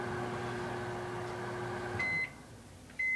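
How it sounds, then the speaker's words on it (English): A microwave oven heating Campbell's Chunky soup hums steadily with a low electrical drone, then stops and gives two short, sharp beeps a second apart. "coming to the end of the microwaving process."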